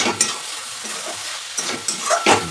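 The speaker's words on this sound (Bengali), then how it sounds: "এইভাবে বেশ কিছুক্ষণ নাড়তে হবে" A coconut filling with cardamom being stirred in a pan, with a few sharp scraping strokes of the spoon over a faint sizzle, close up and without talk.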